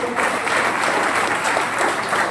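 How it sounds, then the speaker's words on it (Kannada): Loud, sustained applause from a meeting audience for two company directors at a leaders' meet in Hubli, steady clapping filling the whole stretch without a break. "ಇಬ್ರು ಡೈರೆಕ್ಟರ್ ಇದ್ದಾರೆ, ಜೋರ ಚಪ್ಪಾಳೆ ಕೊಡಿ"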